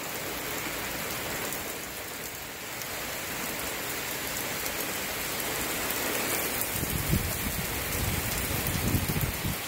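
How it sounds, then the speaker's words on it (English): Steady rain falls continuously at night, a dense even hiss of drops on surfaces with no voices, constant and enveloping. "You can't eat the rain, babe."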